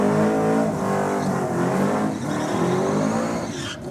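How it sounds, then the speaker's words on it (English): An orange Ford Falcon drag car does a burnout in the lane, a loud sustained engine howl with rising and falling revs and harsh tire scrubbing, ending in a sharp screech. "Nice burnout from the Orange Falcon down there in the rocket lane."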